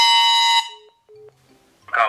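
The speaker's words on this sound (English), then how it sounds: "It's an air horn." A short, loud blaring air horn blast that cuts off abruptly, followed by a few faint electronic tones and a brief burst of noise.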